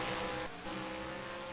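Race cars in the NASCAR Racing 2003 video game run a road course at Watkins Glen, engines droning loud and close, with a brief dip as cars run side by side through a chicane.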